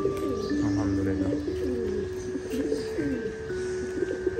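Pigeons coo in a loft, overlapping low throaty rolling calls repeating steadily and close, with faint chirps and background hum.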